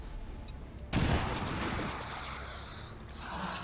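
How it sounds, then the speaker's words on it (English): In XCOM 2, a single loud blast erupts after a quiet moment, followed by a long rumbling, crackling decay and faint mechanical debris noises. "One grenade, one shotgun shot"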